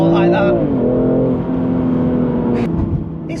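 A BMW M2 Competition's engine revs hard while driving, a loud rising then falling tone at the start settling into a steady drone, with people talking over it inside the car.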